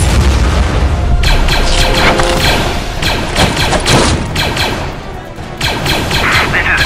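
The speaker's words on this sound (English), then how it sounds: "We're taking heavy fire." Heavy blaster fire and explosions in a stop-motion Clone Wars battle, a dense, loud stretch of booms, crashes and rapid shots with no pause.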